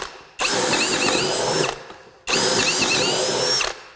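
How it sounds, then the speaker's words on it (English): Flex cordless drill on high speed driving a 3/8 inch bit through wood, two loud sustained whining bursts with a brief pause between, close and alone. "Here we go with the largest drill bit that's in the package that comes with the drill. This is a 3/8."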